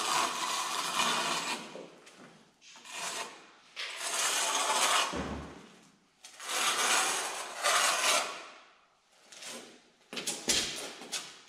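A trowel scrapes tile adhesive during large-format floor tile laying, in repeated rasping strokes of about a second or two each with short pauses, close and fairly quiet.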